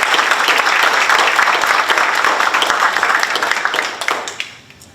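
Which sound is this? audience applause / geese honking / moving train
audience applause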